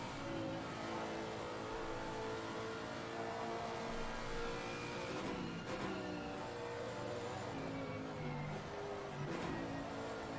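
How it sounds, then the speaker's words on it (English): A Lexus race car engine drones steadily on board at the Paul Ricard circuit in Assetto Corsa Competizione, with a continuous, fairly faint hum that shifts pitch slightly through corners. "This is the Lexus we're on board with at the moment."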